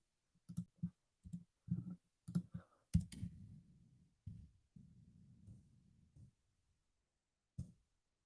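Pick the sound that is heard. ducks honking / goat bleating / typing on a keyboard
typing on a keyboard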